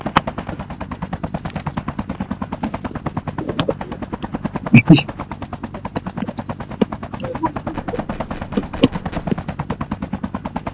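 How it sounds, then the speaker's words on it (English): Rapid bursts of automatic gunfire and scattered single shots from the mobile shooter game Call of Duty Mobile, steady and loud throughout, with a brief shout from a player over the constant firing. "Oh, there's gunshots."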